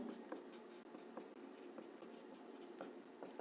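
Maths is written on a board in a class 7 lesson, with faint, quick strokes and taps in an irregular rhythm against a low, steady room hum.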